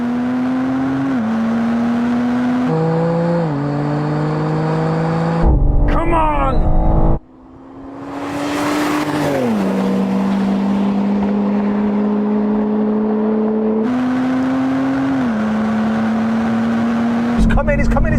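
Cars accelerate flat out in a drag race, the engine pitch rising in steps with each gear change over a sustained, loud roar, with a brief drop in the middle and talking throughout.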